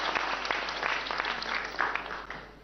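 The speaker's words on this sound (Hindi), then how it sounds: "एक बार आप सभी टीम्स के लिए तालियां जोरों से बजाइए" Audience applause for competing teams at a televised government quiz show in Rajasthan, a steady dense clatter of many hands throughout, moderately loud and sustained.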